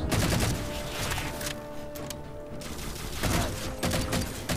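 Bursts of automatic gunfire from the video game Halo 4 come in loud, dense volleys with brief pauses, continuing across the whole stretch.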